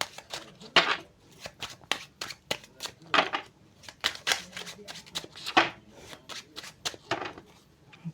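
Tarot cards being shuffled by hand at close range, a steady run of crisp riffling and slapping bursts with no talking.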